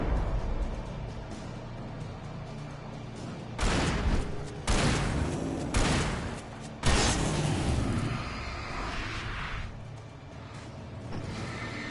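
Flashbang blasts and a rattle of gunfire in Alan Wake Remastered, a few sharp loud bursts in the middle of the stretch over a steady low game ambience.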